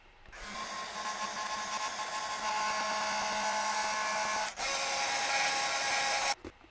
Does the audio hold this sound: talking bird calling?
no